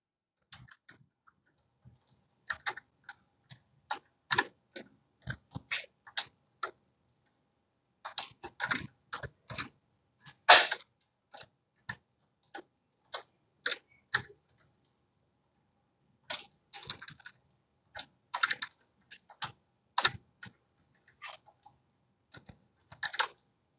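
Keystrokes on a computer keyboard as numbers are entered, in three bursts of quick irregular clicks with short pauses between them, close and fairly quiet, with no talking.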